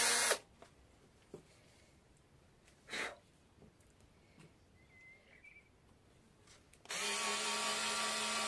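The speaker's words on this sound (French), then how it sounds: "avec ça, on agrandit le trou pour que la tête de vis rentre parfaitement" A power drill widens screw holes in wood while fitting out a DIY camper van, with a loud burst at the start and a sustained run at the end, separated by quieter sparse knocks and workshop noise.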